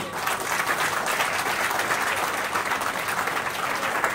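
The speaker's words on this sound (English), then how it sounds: "All of you, put your hands together, everybody!" Wedding guests clapping together at a reception, a dense, steady wash of applause that stays loud and even throughout, close and filling the room with no talk over it.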